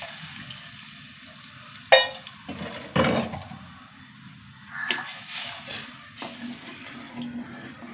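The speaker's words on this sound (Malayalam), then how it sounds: "കുറച്ചും കൂടി വെള്ളം ഒഴിച്ച് കൊടുക്കാം" More water goes into a simmering curry, with short splashes and a burst of pouring alongside occasional utensil clinks and a low steady background, heard close by.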